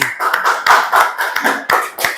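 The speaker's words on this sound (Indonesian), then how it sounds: "Beri tepuk tangan yang meriah untuk kelompok 2." A small group of students claps for group 2 in a classroom, giving a few loud, uneven bursts of hand claps close by.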